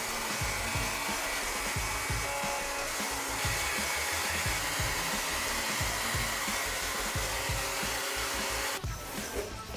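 A Drybar hair dryer blows hair dry with a loud, steady whooshing roar running unbroken and close for the whole stretch, dipping briefly near the end; no talking.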